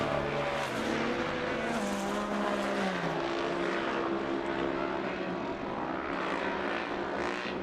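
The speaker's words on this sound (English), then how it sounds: "that Polaris is really quick, and you can see the Can-Am of Weller now pretty much matching the speed" Polaris and Can-Am Production 1000 UTVs race on a short course, their engines droning and rising and falling in pitch as they pass at moderate distance, a sustained layered roar with no talk.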